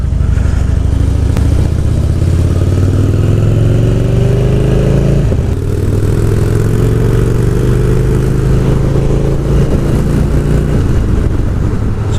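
A Harley-Davidson motorcycle ridden on the motorway, its loud engine droning with rising and falling pitch as it accelerates and shifts through gears, close and continuous with wind rush.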